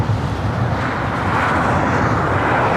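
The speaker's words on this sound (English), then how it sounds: "our next arrival is Qantas Flight 11, the A380 Super, coming in from Sydney" A Qantas Airbus A380 airliner arrives at LAX with a loud, continuous, broadband engine roar that holds steady, close and unbroken throughout, with no voices.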